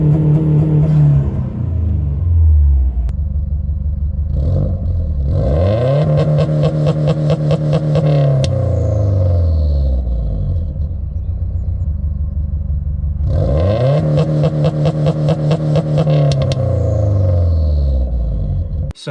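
Subaru WRX engine held at high revs by launch control with the clutch in, loud and steady, with two surges and falls in pitch as the throttle is blipped and released, close and alone.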